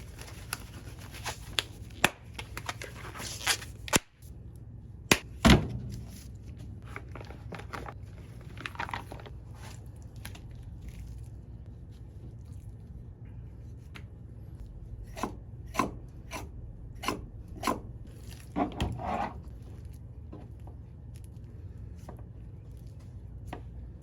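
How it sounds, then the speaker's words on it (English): A knife trims pork ribs and scores the membrane, making scattered close scraping and cutting strokes in irregular bursts over a low steady background hum, with no talk. "Once we got that all trimmed up and we've got the membrane all nice and scored"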